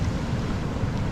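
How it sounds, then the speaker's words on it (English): A small wave washes into shallow Brighton Salt Pond, a steady, even rush of water mixed with wind buffeting the microphone, close and fairly loud throughout. "Every now and then you get a nice wave that comes in here"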